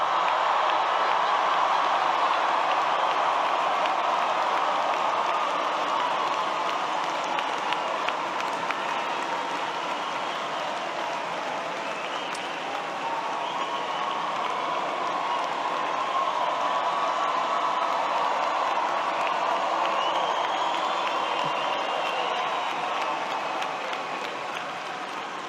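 Graduates at a Georgia Tech 2025 graduation ceremony stand and cheer, producing a sustained wash of applause and crowd noise that stays fairly even and distant throughout.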